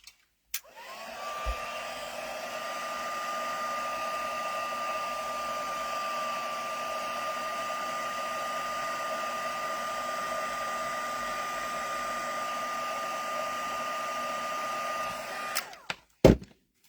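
A hair dryer or heat tool blows on a craft piece, a steady loud whine switched on, held for about fifteen seconds, then switched off.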